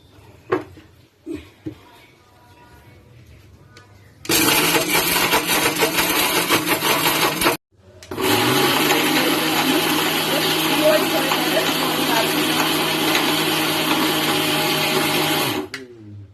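A mixer grinder whirs loudly as it pulverises dry ingredients into powder, running in two long, steady bursts separated by a brief pause, with faint handling noise before it starts.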